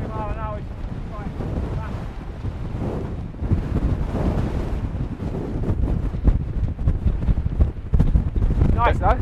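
Strong gusting wind of about twenty miles an hour on an open hilltop, buffeting the microphone in loud, uneven rushes, with people talking intermittently over it.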